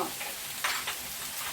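Chicken and vegetable pie filling with sage, tarragon and garlic is stirred in a hot pan, a short wet scraping mix over a steady sizzle, close and fairly quiet.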